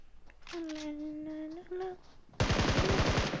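Gunfire in PUBG Mobile, a loud rapid automatic burst of close shots that starts suddenly after a short tonal hum and some brief talk.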